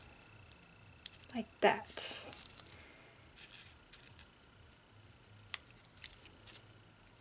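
Quiet snipping and rubbing of scissors cutting paper to round petals for an accordion-fold flower rosette, a few short crisp cuts near the start under faint talk, then softer handling noises.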